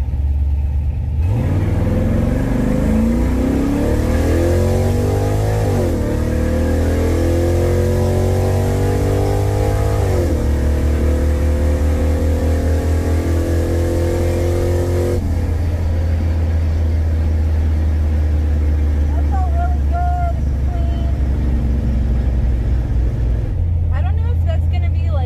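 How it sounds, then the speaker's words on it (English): A daily driver car at a drag strip, its engine revving hard through a burnout, loud and sustained with rising and falling pitch, then settling to a steady idle, with people faintly audible in the background. "I'm actually going to do a burnout this time because I spun ever so slightly"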